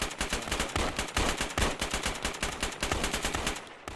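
Rapid automatic gunfire in a video game, a dense, steady stream of loud, close shots firing nearly nonstop for several seconds with slight pulsing, no voices over it.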